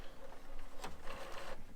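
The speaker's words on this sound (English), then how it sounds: "You can hear the printer still going through its warm-up cycle." An HP all-in-one printer runs through its warm-up cycle, giving a steady mechanical whir with a brief swelling sweep and a few soft clicks, fairly close and alone.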